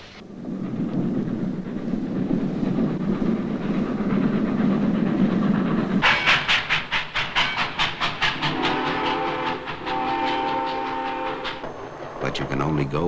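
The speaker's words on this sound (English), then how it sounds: "The one sure way to get someplace is on a train." A train rumbles steadily, then shifts into a loud, rhythmic chugging of pulses that fades toward the end, with narration over it in an old documentary film about America.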